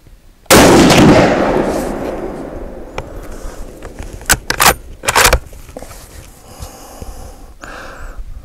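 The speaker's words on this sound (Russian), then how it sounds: "Затвор ходит без особых усилий." Bolt of a Haenel Jaeger 10 rifle in .308 Win being cycled outdoors in wind: one loud opening clack, then a cluster of sharp metallic clicks and slides as the action is worked, close up with no talking.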